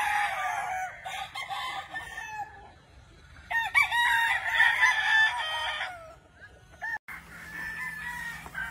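A gamefowl rooster crows repeatedly at a farm in Sorsogon, loud and close, with clucking between calls and no voices.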